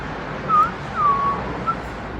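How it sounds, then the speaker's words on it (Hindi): A person whistling unintentionally indoors, three short thin whistle notes, the middle one longer and sliding down, faint over a steady background hiss. "सीटी बजा दी गलती से।"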